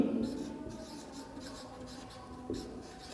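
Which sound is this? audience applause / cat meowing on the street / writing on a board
writing on a board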